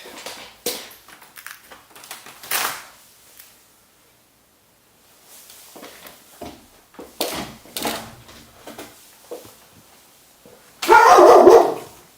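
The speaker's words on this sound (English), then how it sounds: "I hear there's some dogs caged up in the garage" Several dogs caged in a garage bark in scattered bursts, with a loud close barking flurry near the end and quiet gaps between.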